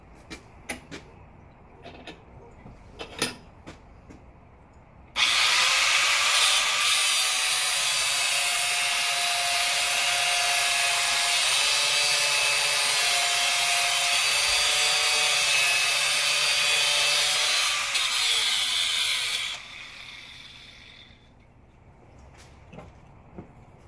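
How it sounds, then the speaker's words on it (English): A cutoff tool grinds through steel for about fourteen seconds while bent knee blacksmith tongs are being made. It comes in loud and steady with a bright, sustained whine, cuts off abruptly, and a few faint clanks of handling come before and after. "I'm done with the cutoff tool, so I'm just putting that back."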